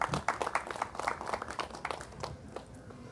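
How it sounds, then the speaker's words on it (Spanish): Applause welcoming Doctor Marita, deputy mayor of Chancay, at an Oxigenatón community event: a group clapping briskly in irregular bursts, moderately distant, tapering off toward the end with a little murmuring in the background. "La recibamos con fuertes aplausos"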